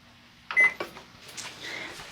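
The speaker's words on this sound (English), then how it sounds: "I'm going to set the timer on the microwave for 5 minutes." A few short electronic beeps and button presses on a microwave oven keypad setting the timer, followed by faint clicks and a soft higher tone, with no talking.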